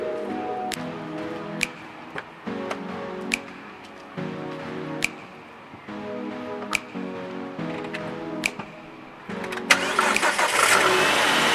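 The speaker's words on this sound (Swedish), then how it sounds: "vi ska starta bilen" Repeated cranking attempts on a car engine: several bursts of starter whirring separated by sharp clicks, followed by the engine catching and running at a louder, steady idle near the end.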